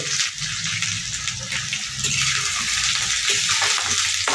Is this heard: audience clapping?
no